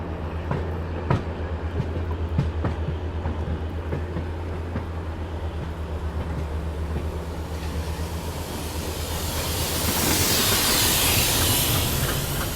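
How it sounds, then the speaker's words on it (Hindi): A loud, constant low drone from a train's generator car hums throughout, with scattered clanks and a rising hiss of steam or air toward the end, in busy Delhi railway station. "पूरे दिल्ली स्टेशन में जनरेटर कार के ज़बरदस्त साउंड आ रहे हैं"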